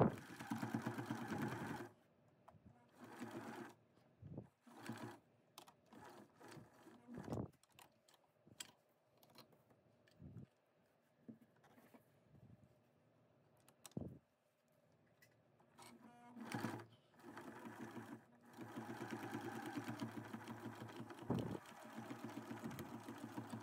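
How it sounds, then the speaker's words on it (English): A sewing machine stitches along the fabric edges of a kids' face mask to form an elastic casing, running in several bursts of steady mechanical whirring with short pauses in between, fairly close. "I'm gonna sew along these edges now, and this will be the tube that will hold our elastic."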